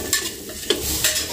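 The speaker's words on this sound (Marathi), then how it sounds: "तुपामध्ये ना छान 1-2 मिनिटे ना आपण चांगलं परतवून घेऊ गाजर" Carrot pieces sautéing in ghee for carrot halwa, with a short run of close stirring scrapes and a light tap over a soft sizzle.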